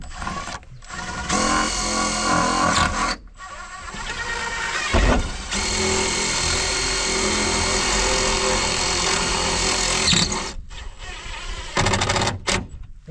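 A power driver whirs in long continuous runs while sinking screws at random spots into an old post office building's roof during hole patching, with brief pauses between drives.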